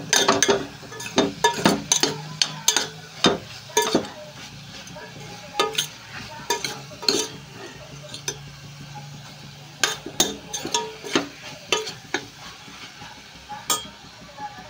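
Ridge gourd curry with salt and chili is stirred while it fries in a pan. Frequent clinks and scrapes of a spoon against metal come in uneven bursts over a soft sizzle.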